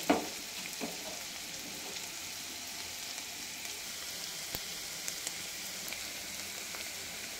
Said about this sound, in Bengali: পেঁয়াজটা আমি 1 মিনিটের মতো ভুনে নিয়েছি।